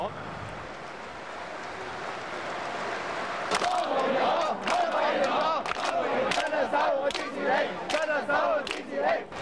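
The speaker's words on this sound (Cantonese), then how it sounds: "在場人士拍手歡呼。" Crowd applause and cheering erupt at a Hong Kong chief executive election result, starting after a quieter opening and staying loud and dense with sharp clapping bursts.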